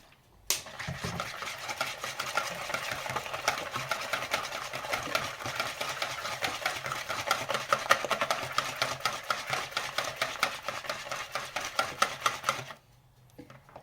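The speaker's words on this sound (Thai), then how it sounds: "เพื่อนๆตีจนน้ำตาลละลายนะคะ" Eggs and sugar are whisked rapidly in a bowl for a caramel flan pudding, a dense steady scraping rattle of the whisk that runs about twelve seconds and then stops abruptly.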